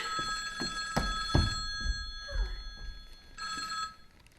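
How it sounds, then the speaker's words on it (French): An old-fashioned telephone bell rings in several bursts, with pauses between the rings, fairly close and clear, alongside a few soft thumps and movement sounds in a quiet room. "Répondez, Antoinette, vous n'entendez pas?"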